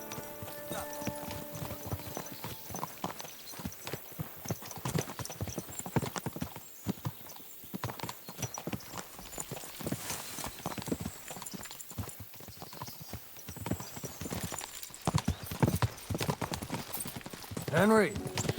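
Horse hooves clip-clop steadily in Kingdom Come: Deliverance II, the trotting rhythm continuous and close across the whole stretch while characters talk over it.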